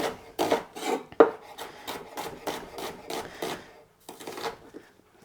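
Onions being chopped with a knife during a Sunday meal prep, a close run of quick, rhythmic cutting strokes that slow and pause near the end, with no one talking.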